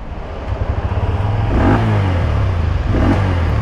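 A Bajaj Pulsar N125 motorcycle engine revs up steadily and loudly, its pitch rising as it accelerates, heard close and without talk.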